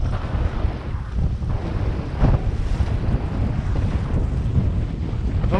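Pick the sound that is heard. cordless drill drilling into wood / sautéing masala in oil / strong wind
strong wind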